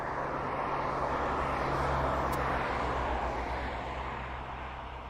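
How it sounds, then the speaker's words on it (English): A small aircraft comes in to land at East Midlands Airport, its engine a steady distant drone that swells slightly and then fades, with broadband rushing noise throughout and no talk. "We just saw that small aircraft come in"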